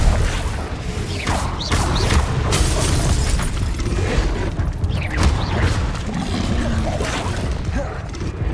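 Confringo blast spell fired in combat in Hogwarts Legacy, a loud continuous wash of booming impacts and crackling bursts that rise and fall in waves over a dense, rumbling fight.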